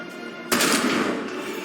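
A tank cannon in War Thunder fires a composite shell: one sudden loud blast at about half a second, followed by a long, dense rumbling decay over steady engine-like background noise.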